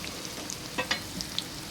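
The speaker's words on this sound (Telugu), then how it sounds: "ఇదైతే వేగనిద్దాం అనమాట ఫస్ట్." Red chillies frying in oil in a pan for tempering pulihora, a soft, steady sizzle with a few brief crackles and pops, close and fairly quiet with no voices.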